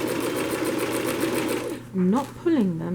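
Sewing machine running steadily while stitching fabric for a barstool chair back, a short reverse then forward run, loud and close, stopping midway as someone speaks over the end.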